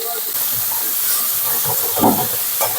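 Chopped tomatoes and two green chillies hit capsicum frying in a pan, giving a continuous hissing sizzle close by, with a few soft clatters.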